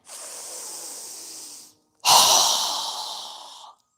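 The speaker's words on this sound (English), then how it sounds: "So go ahead and inhale. Strong exhale." Two forceful breaths during a yoga breathing exercise, each a strong, airy rush lasting over a second, separated by a brief pause, close and alone.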